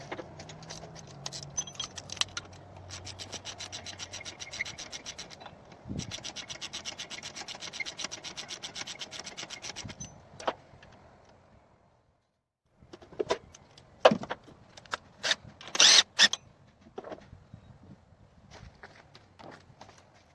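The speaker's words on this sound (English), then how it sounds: "You'll loosen this bolt and you'll loosen this bolt." Tensioner bolts on a 2006 Subaru Impreza wagon engine are loosened with a hand tool: close, fast bursts of ratchet clicking, a brief pause, then scattered sharp metallic knocks and scrapes.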